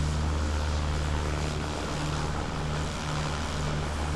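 Cessna 172 propeller engine droning steadily in a flight simulator game, a loud continuous tonal roar with no breaks and no talking.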